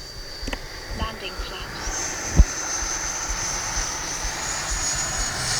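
An FMS F-86 Sabre 80mm EDF radio-controlled jet whines steadily in flight with a rising high-pitched fan tone over outdoor background noise, and a voice speaks briefly near the start.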